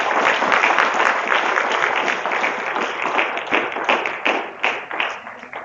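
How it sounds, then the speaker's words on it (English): An audience at an agricultural science conference day gives a sustained round of dense, loud applause for the presenters, the clapping thinning slightly toward the end. "we should applaud all these presenters."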